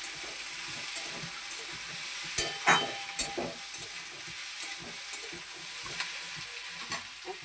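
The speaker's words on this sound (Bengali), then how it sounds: "এটাকে পেঁয়াজ দিয়ে দিলাম" Onions frying in a pan for Bengali dal, a steady soft sizzle with occasional stirring scrapes and clinks against the pan.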